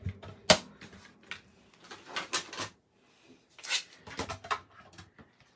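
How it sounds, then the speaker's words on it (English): A mini cut and emboss machine is operated at close range, giving several bursts of clicking, cranking and rattling separated by short pauses. "we're going to bring in our mini cut and emboss machine"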